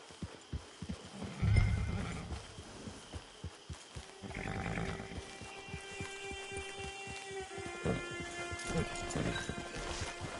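In Red Dead Redemption 2, a horse's hooves clip-clop in a steady, close rhythm, with a loud neigh early on and more snorting and whinnying over game music later.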